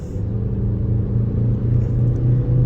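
Engine of a 2023 Mazda CX-30 pulling hard on a night highway, a steady low droning rumble with a rising tonal hum and road noise, constant and close from inside the cabin.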